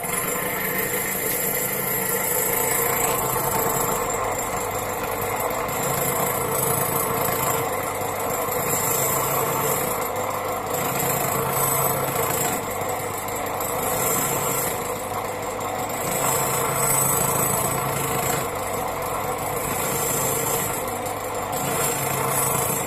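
A small electric motor on a universal valve seat cutter for engine heads runs steadily with its speed held down by a dimmer, a continuous even whine with light mechanical hum throughout and no talking.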